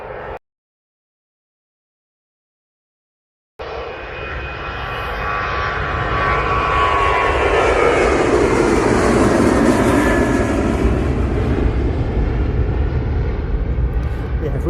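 A TUI airliner takes off from Manchester Airport bound for Paphos, its engine roar rising after a brief silence into a loud, sustained, broadband thunder that holds steady to the end.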